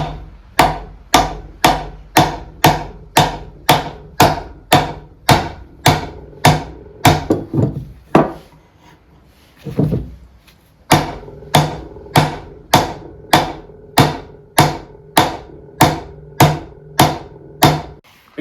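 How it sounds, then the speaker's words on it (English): A hammer tapping on the seized pins of a mill angle plate, fitted with a nut threaded on, giving sharp metallic knocks in a steady rhythm about twice a second, pausing briefly midway before the regular blows resume, close and loud. "I'm just going to gently hit it to try and get some movement out of it."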